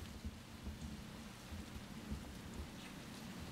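Steady rain pours with low rumbles of thunder rolling underneath, a continuous stormy backdrop inside the survival horror game Resident Evil 2 Remake, with no voices over it.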